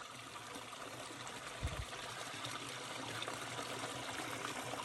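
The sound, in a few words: water trickling at a desert spring in Death Valley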